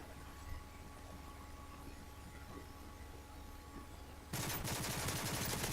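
A sudden burst of rapid gunfire in Modern Warfare 3 erupts near the end after a steady low hum, loud and dense with repeated sharp shots.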